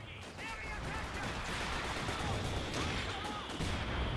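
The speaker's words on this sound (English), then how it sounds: "More mortars are coming on in." Mortar and artillery explosions rumble and crack through a busy Company of Heroes 2 battle, a steady dense barrage of blasts and gunfire under faint game chatter.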